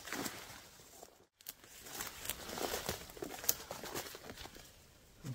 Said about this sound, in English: The rain has picked up a little bit.